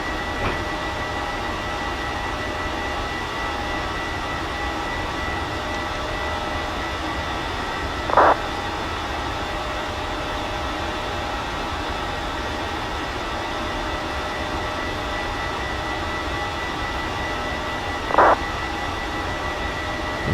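PMDG 737-700 jet engines on the takeoff roll in a flight simulator game make a steady, even drone that holds throughout, broken only by two brief faint clicks.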